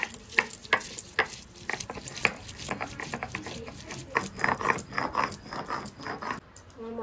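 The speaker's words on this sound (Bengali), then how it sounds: "সর্বপ্রথমে আমি পেঁয়াজটাই বাটা করি।" Onion is ground into a spice paste by hand, giving rhythmic scraping and grinding strokes in quick, uneven pulses, close and moderately loud.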